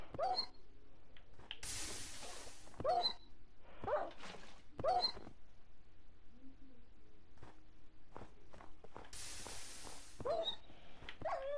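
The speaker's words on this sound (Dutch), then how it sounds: "Dat is gewoon die wolf." A Minecraft wolf barking and whimpering in the game, a series of quiet yips and whines repeating at a steady pace, with occasional hissing bursts between them.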